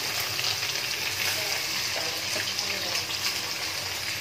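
Paneer cubes frying in hot oil in a home kitchen, a steady dense sizzle and crackle that holds evenly throughout, close and moderately loud with no talking.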